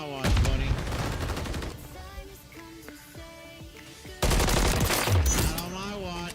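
Gunfire in a Call of Duty League championship match, two loud clusters of rapid shots at the start and near the end, separated by quieter game sounds, with a voice speaking.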